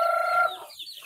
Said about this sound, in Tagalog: Ito yung mga manok, oh.